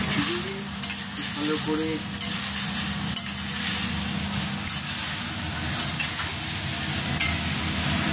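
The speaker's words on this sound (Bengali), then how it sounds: "এই যে ফ্রাই করা পনিরটা ঢেলে দিলাম" Fried paneer tipped into a hot pan sizzles loudly and steadily while being stirred, a dense close frying hiss with occasional scrapes and a brief voice speaking over it.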